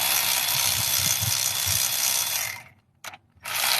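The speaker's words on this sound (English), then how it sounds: "All that I have to do now is just continue to take these bolts out" A hand ratchet clicks in steady rapid strokes while exhaust bolts come out of a 2008 Dodge Avenger during a head gasket job. The ratcheting is close and continuous, then stops briefly and resumes.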